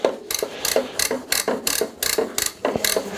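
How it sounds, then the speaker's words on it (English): A cloth pulled tight and worked back and forth between the cogs of a bicycle cassette during winter cleaning makes a rhythmic series of close, raspy, ratchet-like zipping strokes, about two each second. "pull the fabric tight and slide it between the cog, and then you can kind of just work its way around"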